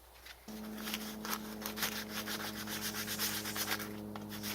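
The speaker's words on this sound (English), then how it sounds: "Now I'm just adding in the final touches using sandpaper." Sandpaper working a hop hornbeam wooden ski, a steady, close rasping rub in repeated back-and-forth strokes over a constant low hum.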